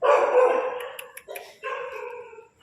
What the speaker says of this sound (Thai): ลำคาญตัวเห่า